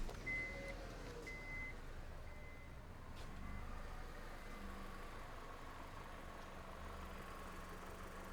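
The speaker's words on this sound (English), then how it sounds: "So I'm just going to go ahead and start the car up now." A 2005 Honda Civic with a misfire and low power cranks and settles into a steady idle, heard as a continuous low engine rumble with a few faint beeps early on.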